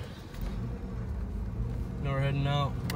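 A 2003 Ford Mustang V6 automatic convertible with rear-wheel drive pulls away, its low engine rumble steady throughout as someone talks over it toward the end.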